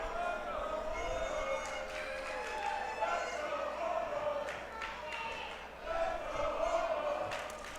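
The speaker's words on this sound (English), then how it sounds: "The crowd coming alive for Hobo Hank." Crowd at a Duke City Championship Wrestling show cheering and shouting steadily throughout, with voices rising in waves, under a commentator's talk.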